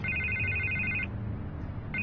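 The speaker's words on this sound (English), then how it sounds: "I can't get the phone to stop ringing" A telephone rings in the Batman Telltale Series video game, its electronic trill repeating steadily, then pausing briefly before starting again, clear and fairly close with no talk over it.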